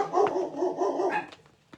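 Dogs barking indoors, a couple of muffled barks that fade out, with one faint yip at the end.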